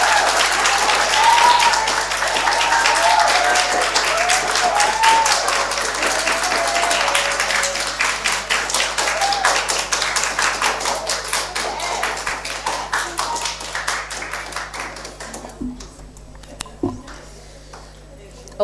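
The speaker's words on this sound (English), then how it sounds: "Let's give a round of applause to all the participants." Audience applause for participants at an annual spelling bee competition, a dense sustained clapping that fills most of the clip, then thins out and ends with a few scattered claps near the end, with voices faintly heard underneath.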